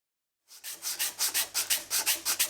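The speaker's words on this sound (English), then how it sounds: "I'm using the Shinto rasp to do the first cut between the line A and B." Shinto rasp filing wood while shaping a guitar part, heard as about ten rhythmic, even rasping strokes starting after a short silence, close and fairly loud with no voices.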